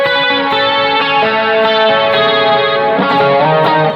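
An electric guitar runs through an effects unit with chorus and distortion, played loud and sustained in a thick wash of tone. A stronger accent comes near the end.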